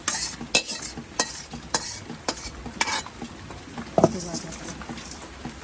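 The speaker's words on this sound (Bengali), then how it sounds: "আর যে এখানে পটল ভাজছে" Pointed gourd (potol) frying in a pan in a home kitchen, with repeated sharp clinks of a utensil stirring against the pan over a steady sizzle, while a voice talks over it.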